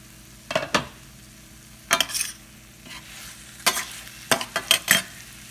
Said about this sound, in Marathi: आणि मंद आचेवर साधारण 10 मिनिटं याला शिजू.